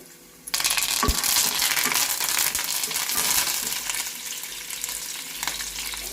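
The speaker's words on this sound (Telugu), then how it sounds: "మూడు పచ్చిమిరపకాయలు చీల్చి పెట్టాను ఇవి వేస్తున్నాను ఇవి కొద్దిగా వేగనిద్దాము" Split green chillies and curry leaves dropped into hot oil for gongura pulihora, a sudden loud sizzle that settles into steady close frying with occasional stirring clinks, no talking.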